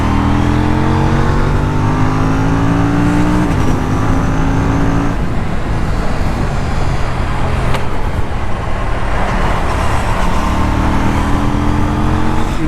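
An Aprilia Tuono 457 motorcycle pulls hard under open throttle in fifth gear on a highway in sport mode, its engine note climbing steadily and loud with strong wind rush throughout and no talking.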